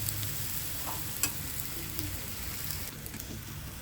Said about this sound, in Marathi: तर आपण लगेचच हा दुसरा थालीपीठ पण टाकूया आणि लगेचच त्याच्यावर तेल सोडते आणि हा बारीक गॅसवर आपण शेकून देऊया.